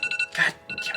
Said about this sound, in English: that's my alarm going off